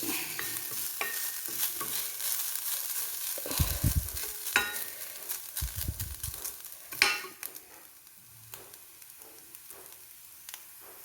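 Grated coconut roasting in a pan for a Kerala payar erissery, with a steady soft sizzle and repeated close scraping strokes of a spatula stirring it, sometimes louder clanks against the pan.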